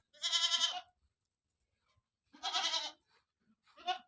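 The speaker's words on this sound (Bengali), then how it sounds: "হ্যাঁ ছাগল ছাগল" Goats bleating on a hot, sandy farm: three separate close calls, two long wavering bleats and a shorter one, with quiet gaps between them.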